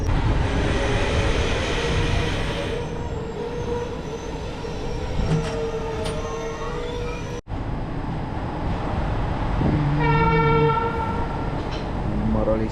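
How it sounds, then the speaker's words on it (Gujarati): A train pulls out of Maroli station with a continuous heavy rumble of wheels and carriages, loud and close, and a sustained horn blast sounds near the end. "મરોલી સ્ટેશનથી ટ્રેન ડિપાર્ચર થઈ ગઈ છે"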